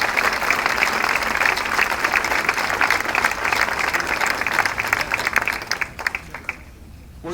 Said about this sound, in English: Give yourself a round of applause one final time.